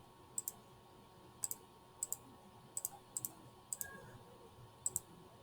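Graphing calculator keys are pressed in quick, crisp clicks, often in pairs, spaced irregularly over a quiet background.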